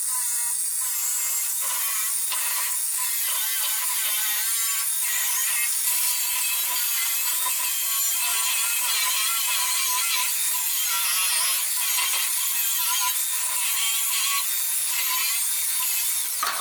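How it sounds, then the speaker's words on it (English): A grinder with a wire wheel grinds a cast iron radiator during a repair, a steady, harsh high-pitched scraping whine that runs unbroken and close throughout with no talk. "make sure that the wire wheel that you're using is compatible with the RPM of your grinder"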